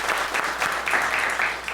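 A burst of audience applause, dense and fairly loud clapping with a few stronger swells, lasting under two seconds without talk.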